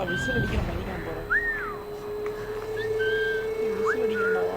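A character whistles in Assassin's Creed 3 Remastered: several short rising and falling tonal phrases, clear and near, over a low game ambience with a brief voice at the start.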